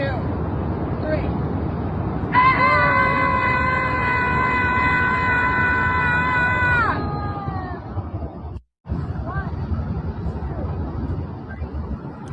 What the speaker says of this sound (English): A Portland group, they get together every Wednesday and scream at a park in protest of Donald Trump.